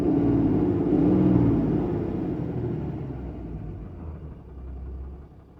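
A 2007 Ram 3500 pickup with a 6.7 Cummins diesel, being diagnosed for sensor faults, settles to idle: a loud, close, rumbling drone that gradually drops and evens out over several seconds.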